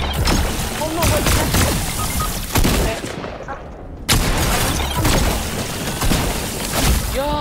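Gunfire in Fortnite while shooting at an enemy: loud repeated bursts of shots with sharp impacts, broken by a short lull, then more firing, while voices talk excitedly over the top.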